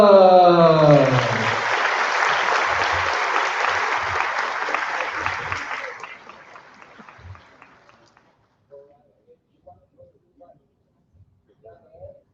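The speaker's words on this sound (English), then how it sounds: "Can we give a big round of a Singaporean applause to our first speaker, Jennifer." Audience applause at a product training event in Singapore, a loud sustained burst of clapping that fades out over several seconds, leaving quiet room with scattered soft sounds.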